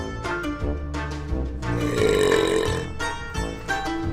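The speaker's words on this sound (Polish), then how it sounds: "Przecież normalne osoby nie mogą jeść ciągle słoneczniku i bekać." A series of loud, close burps from someone snacking on sunflower seeds: a few short belches followed by one long, drawn-out rumbling burp, with no talk.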